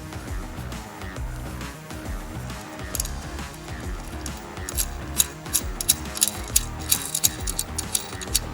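Ratcheting mechanical clicks from a 4mm hex fastener being tightened while a Jeep Wrangler JL two-door Trektop is installed, a steady working rhythm that grows into sharper, louder clicks toward the end.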